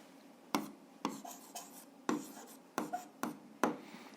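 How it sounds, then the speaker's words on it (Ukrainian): Pen strokes sound on paper as algebra exercises are written out by hand, a quiet sequence of sharp taps and short scratches in an irregular rhythm, with no talk. "Записуємо так."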